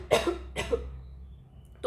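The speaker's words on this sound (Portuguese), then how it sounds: "Tô tossindo." A teacher gives two harsh, close coughs about half a second apart, followed by a quiet pause and the start of another sound at the end.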